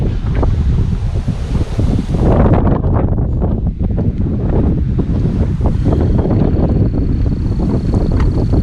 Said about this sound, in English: that's a gust of wind.